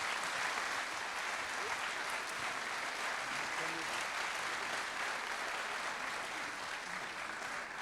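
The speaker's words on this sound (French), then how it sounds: "vous recevez ce trophée ce soir des mains de Simon Hayek sous vos applaudissements" Sustained applause from a seated audience at a regional business awards ceremony in Saône-et-Loire fills the room, steady and dense throughout with no break.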